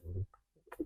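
A mimicry artist on stage voices a pigeon cooing, as pigeons do when perched atop buildings: a short low throaty coo, a pause, then a few soft rising, gurgling notes, quiet and close.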